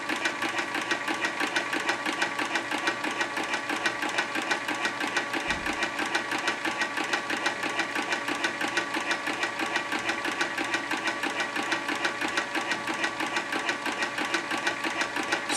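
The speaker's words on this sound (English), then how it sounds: "as you're stitching your work, you'll always have a bobbin being wound." Artisan Toro 3200 industrial sewing machine running to wind a bobbin, a steady fast rhythmic whir and ticking motor drone, close and even throughout with one brief thump midway.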